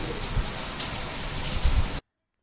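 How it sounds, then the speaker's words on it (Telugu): Steady rain falls in Peddapalli, a dense even hiss with a few louder drops, which stops abruptly after two seconds. "ఇప్పుడైతే మంచిగా పెద్దపల్లిలో వర్షం పడుతుంది కూల్ కూల్ వెదర్ ఉన్నది"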